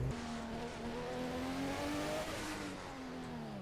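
A Nissan R33 track build's engine revs in a racing video game and holds a high, rising drone, steady and loud throughout with a slight shift in pitch partway through.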